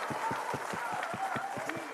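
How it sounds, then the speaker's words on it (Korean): An audience at a Korean political talk show applauds as a lawmaker is introduced. The clapping is steady and moderately distant, with a regular thumping beat that repeats through it. "박수 부탁드릴게요."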